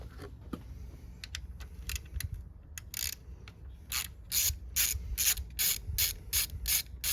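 A ratchet clicking as valve cover bolts come off a 2017 Hyundai Elantra engine, first as scattered single clicks, then as a run of rapid, evenly spaced ratcheting bursts, close and crisp against a quiet garage hum.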